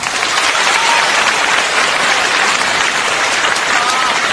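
Loud, sustained audience applause fills a stand-up comedy show by Wong Tze-wah in Hong Kong, a dense steady roar of clapping from a large crowd with no gaps.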